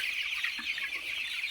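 Chickens cluck steadily on a poultry farm during cold weather, a dense continuous chatter of many birds at moderate distance with no voices over it.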